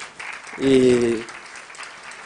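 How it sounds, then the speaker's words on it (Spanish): Conference audience applauds in a brief burst of clapping that swells and fades, mixed with a voice speaking over it. "el aplauso es para ustedes porque va a haber más gente"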